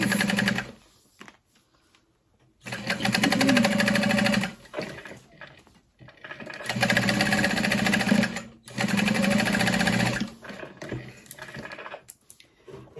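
A sewing machine top stitching a handmade bag, two bursts of fast steady needle whirring of a few seconds each, separated by pauses with small handling noises, close and loud.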